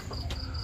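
Chickens cluck in a backyard coop holding around forty birds, a short burst of close, busy clucking over a steady low rumble.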